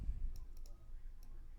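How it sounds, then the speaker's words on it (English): A few light, crisp computer mouse clicks, including a quick double click, sounding faint and close over a quiet low hum. "We just click this"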